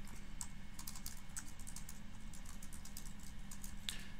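Computer keyboard typing text while a WordPress website is being edited: a run of irregular, fairly faint keystroke clicks over a steady low room hum, with no talking.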